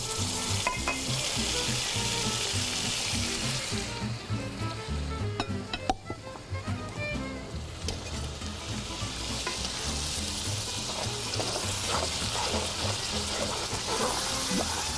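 Cooked tomato puree from four or five medium tomatoes hits hot fat in a pot of mutton or beef stew, a loud sustained sizzle with bubbling crackle, a brief clatter around the middle, then steady frying.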